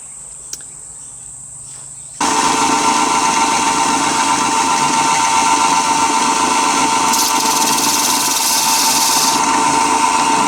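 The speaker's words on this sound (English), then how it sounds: "the next step now is polish this" A power tool polishes a nickel-plated threaded nipple. After a quiet start, it switches on abruptly and holds a loud, steady, high whirring whine that grinds briefly harsher near the end.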